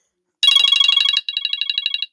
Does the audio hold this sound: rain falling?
no